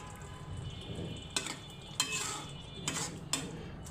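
Metal lid set onto a cooking pot of rice and potatoes on a stove, a few sharp clinks and rattles over a low simmering hiss, close and fairly quiet.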